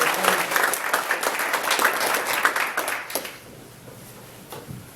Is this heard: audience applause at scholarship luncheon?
yes